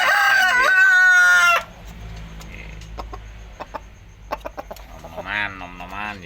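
Roosters kept in a cage crow loudly and close by, with one long crow at the start, then scattered clucks and soft noises, and a second crow near the end.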